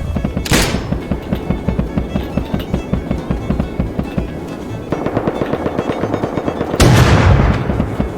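Rapid bursts of helicopter gunfire in the game Rust rattle continuously, with heavy booming blasts at the start and near the end, loud and close.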